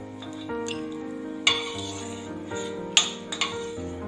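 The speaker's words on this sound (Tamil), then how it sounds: "முந்திரி பருப்பை இந்த மாதிரி வறுத்துட்டு நம்ம எடுத்து வச்சிடலாம்." Cashew nuts roast in a pan as a utensil clinks sharply against the metal three or four times, the taps spaced irregularly over a steady, softer background hum.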